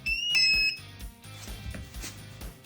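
A jump starter powering an ALFFAA 1500W pure sine wave inverter gives a short, shrill electronic beep that ends quickly. A steady hum and some clatter continue underneath.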